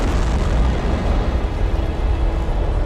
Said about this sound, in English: Liftoff of the Proton rocket of the Zarya control module.